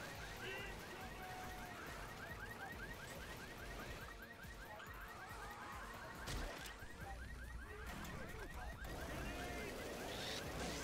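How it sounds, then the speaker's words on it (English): A car alarm goes off inside a Left 4 Dead 2 game, its rapid repeating electronic chirps continuing throughout, heard under dense game noise, gunfire-like bursts and voices. "That was a car alarm,"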